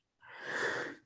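One person sneezes once, close to the microphone: a quick rising breathy burst that peaks and fades within about a second, set against near silence.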